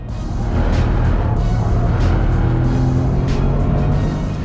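A Toyota GR Corolla Morizo Edition on wider Michelin Pilot Sport Cup 2 tyres is driven hard around a race track, its engine a loud, steady, close drone mixed with road and wind roar throughout.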